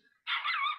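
A single short, high bark from a small cartoon dog, clear and alone after a brief moment of near silence.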